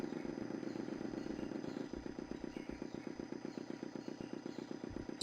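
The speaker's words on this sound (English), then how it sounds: "The motor spluttered into life." A motor splutters and then runs in Broken Sword 2: The Smoking Mirror, a steady fast low chugging with a clattery rhythmic pulse, fairly faint and alone with no voices.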